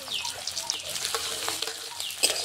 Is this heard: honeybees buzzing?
no